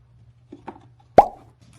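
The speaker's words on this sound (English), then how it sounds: "All I had to do was tape some double-sided tape along the edge and then drop them in." Carbon fiber air ducts for a BMW E46 are dropped into place, landing with a single soft close thud after a couple of faint light taps in an otherwise quiet space.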